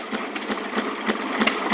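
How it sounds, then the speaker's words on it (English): A gasoline engine built for a Maytag washing machine runs steadily nearby, a constant rapid putter with faint rhythmic knocks and no voices over it. "They built their own engine."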